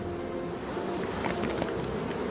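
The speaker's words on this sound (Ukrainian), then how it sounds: "Дивіться, що тут бджоли гронами висить" A dense, steady buzz of many honeybees close by on a hive frame, hanging in clusters, a continuous droning hum with faint scattered clicks and no voices.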